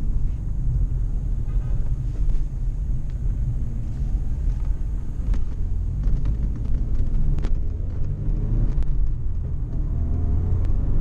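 A Ford Sierra RS Cosworth turbo car drives along, its engine a loud, steady low rumble heard from inside, with faint clicks and rattles over the continuous drone.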